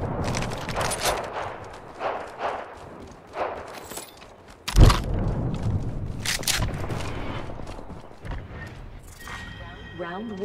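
Gunfire in a shooter video game match featuring Rampart: scattered bursts and sharp shots, one loud close blast near the middle, with voices talking throughout.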